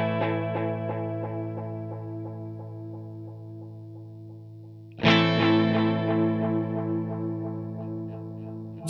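Distorted electric guitar chords through a delay pedal with long feedback ring out, each strum trailing into long, repeating echoes that slowly fade; a second chord strikes midway and decays the same way.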